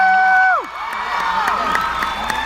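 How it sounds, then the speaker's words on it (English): A large crowd at a Comicpalooza Q&A in Houston, Texas cheers and screams in a loud, sustained roar with shrill whistles and whoops rising through the hall. "As they scream out, "You're the best," and all that"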